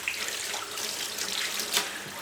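Tap water runs steadily over a chopping board in a kitchen sink, a close, continuous broadband splash and hiss with a brief louder gush near the end, no voices.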